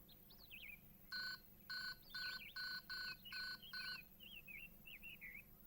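A phone is dialed indoors in a TV serial scene: seven evenly spaced two-tone keypad beeps ring out clearly between soft chirping bird calls.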